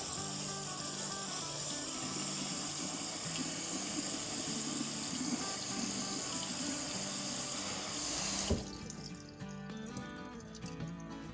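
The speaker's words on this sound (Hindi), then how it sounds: "और अब इस पर ठंडा पानी डाल देंगे।" Cold tap water pours over strained noodles in a kitchen sink, a steady rushing splash for about eight seconds before the tap shuts off, leaving quiet clinks.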